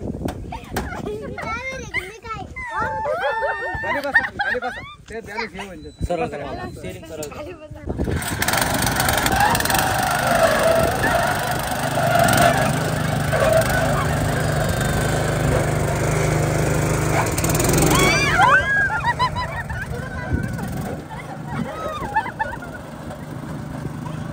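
A mini Swaraj tractor engine runs with a steady, loud drone while pulling a trolley loaded with passengers; people talk over it at first before the engine noise takes over, then eases near the end.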